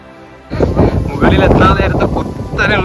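Strong wind buffets the microphone on the windy Banasura Hills summit in Wayanad, about 6000 feet up during a trek, roaring steadily and close under a voice.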